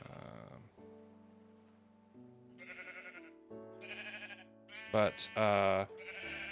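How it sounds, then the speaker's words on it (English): Sheep bleat in short wavering calls on a sheep farm in a video game, with several bleats close together, while a person talks over them. "But down here, we have the new sheep farm."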